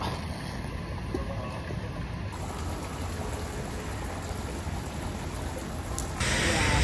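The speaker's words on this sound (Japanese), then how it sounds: "結構降ってんなあ" Rain falls in a video game set around a housing estate as a steady, moderately loud wash of noise with a constant high tone on top, swelling slightly in the last second.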